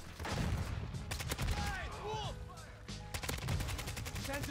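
Rapid gunfire bursts from a pistol in the video game Call of Duty MW2, loud sharp shots in clusters throughout, with other weapon fire and game effects mixed in.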